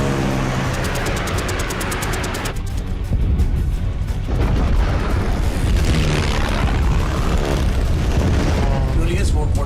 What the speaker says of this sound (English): let's shoot these bastards out of the sky